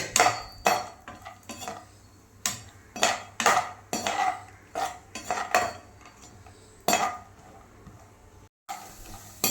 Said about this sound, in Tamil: ஸோ அந்த முந்திரி அப்படியே போட்டு வறுத்துக்கலாம்.